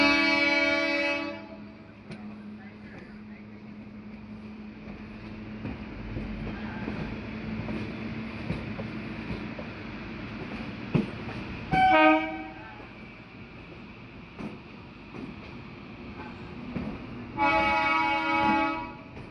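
A local train out of Sealdah rolls into Ballygunge station with a constant rumble and clatter, and its horn gives two loud blasts, one at the start and one near the end, with a short toot in the middle.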